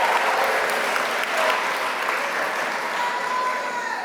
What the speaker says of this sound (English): Let's be loud, let's be happy, let's clap,